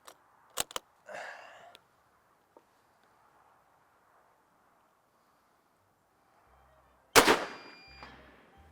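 Shots from an Israeli Mauser battle rifle ring out on a range: a few sharp cracks early, a quieter stretch, then one loud, close report with a trailing echo near the end.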